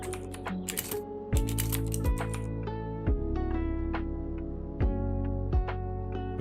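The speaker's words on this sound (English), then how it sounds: "The sounds are from a virtual keyboard called Mech Vibes." Rapid typing on a virtual mechanical keyboard (Mechvibes sound pack), a dense run of close, crisp clicks and clacks with irregular rhythm and occasional louder keystrokes, no talking.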